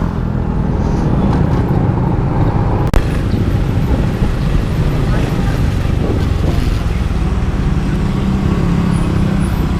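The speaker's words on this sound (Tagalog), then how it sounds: "Grabe mga ka-tools yung traffic dito sa Muson, sa Gov Fortunato." Heavy road traffic on a busy street in Muson, heard from a moving XRM 125 FI motard, gives a loud, continuous engine rumble and wash of passing vehicles, with one sharp knock partway through.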